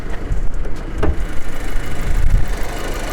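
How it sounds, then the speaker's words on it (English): A rebuilt Audi A4 engine idles steadily nearby under a rush of ocean wind, a low, even rumble with a faint ticking of lifter noise barely showing through the gusty background. "there's still a little bit of lifter noise"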